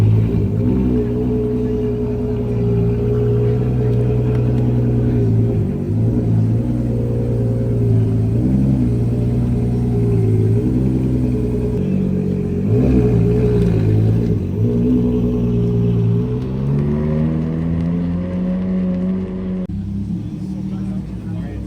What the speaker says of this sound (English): there goes the best looking car in the show